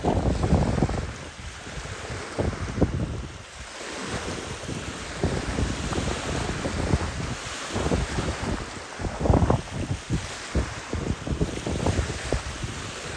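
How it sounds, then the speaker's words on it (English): Steady breeze blowing over the microphone at a riverside waterfront, with a continuous rushing roar that gusts louder and softer alongside faint water lapping, no voices. "there's a breeze, as you can hear from the video"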